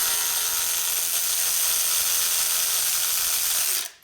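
A power tool whirs steadily to back out two screws on a 2004 Harley-Davidson FLHT Twin Cam touring transmission, loud and close for about four seconds before cutting off abruptly.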